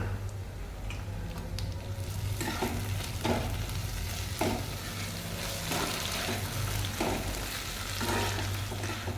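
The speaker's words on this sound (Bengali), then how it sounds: "পেঁয়াজ ভাজাটা লাল লাল হয়ে গেছে এর মধ্যে আদা রসুন আর লঙ্কা বাটাটা দিয়ে দেবো" Onions browned in a pan sizzle steadily as ginger, garlic and green chili paste is stirred in, with a constant frying hiss and periodic scraping strokes of a spatula, no talking.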